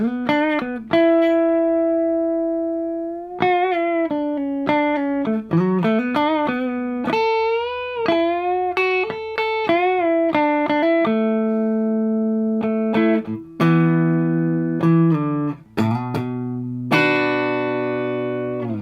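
A clean electric guitar played through an Xotic SP compressor pedal, a melodic solo of single notes ringing with long, even sustain, followed by a few sustained chords.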